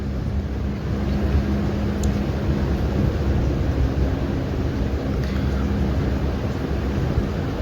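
A sewing machine runs a steady seam across folded fabric while a small girl's top is being stitched, giving a continuous close whirring hum with no breaks and no talking.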